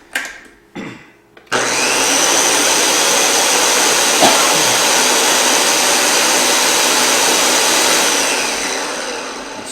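A few short knocks, then a blender blending green salsa with avocado switches on and roars steadily at high speed, loud and continuous until the end.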